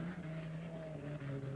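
An unlimited hydroplane race boat's engine drones steadily with a sustained, slightly wavering tone during a 1983 Tri-Cities heat, heard from a distance and fairly faint.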